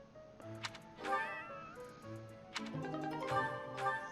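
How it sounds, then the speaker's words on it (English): A cat meows in the video game Fire Emblem: Three Houses, giving several short, close meows over game sound effects and music. "This cat is awesome."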